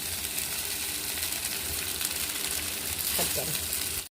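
Rice tossed through tamarind leaves in a hot pan for tamarind-leaf pulihora, a steady close sizzle and frying hiss with faint stirring scrapes near the end.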